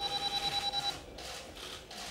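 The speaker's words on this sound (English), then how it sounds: "Set your timer for 25 minutes until you hear the bell." An oven timer rings in a rapid, repeating electronic beep pattern for just under a second, close and clear, then stops, leaving a soft room hiss.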